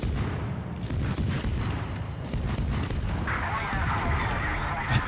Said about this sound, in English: Enemy destroyer blown up.